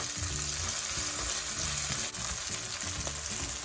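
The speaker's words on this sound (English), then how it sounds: "Give it a nice stir." Quinoa, onion and sweet chilies hiss and crackle in a hot pan as they are stirred, a loud continuous close-up sizzle with a few spoon scrapes and no voices.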